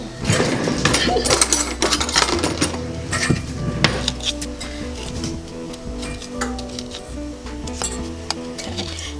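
Metal utensils clatter and clink as a spoon is pulled from among them in a home kitchen during peanut butter cookie baking, with busy, close rattling that stays steady throughout.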